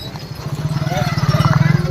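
Bullock cart hooves clip-clop in a fast steady rhythm at a night temple festival in Serampattu, growing louder and closer over a crowd hum and talk.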